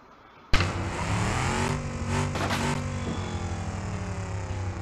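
A police car in a video game revs its engine hard before launching off a ramp, a sudden loud burst that holds a steady, sustained roar with rising harmonic sweeps, close and alone.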